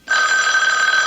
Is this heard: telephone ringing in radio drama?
yes